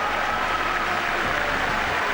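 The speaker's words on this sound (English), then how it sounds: "Big cheer from the Japanese." Spectators at the 2007 World Figure Skating Championships men's free skate fill the arena with a steady, dense roar of applause and cheering, broad and continuous with no distinct voices standing out.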